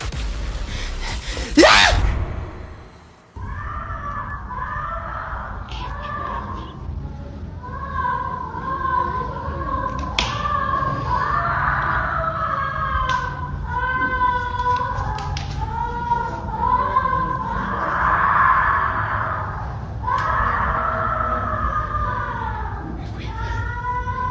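Screams and frightened cries inside a house, recorded during a disturbance: a sudden loud burst and thud at the start, then a long stretch of high, wavering, strained voices wailing continuously over a rumbling background.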